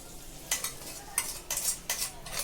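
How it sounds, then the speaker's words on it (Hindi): A spoon stirs cooked masala into potatoes in a pan, making several soft, scraping strokes at irregular intervals over a faint background hiss, close by and fairly quiet. "उसको अच्छे से चला लेंगे, सब मिक्स कर लेंगे"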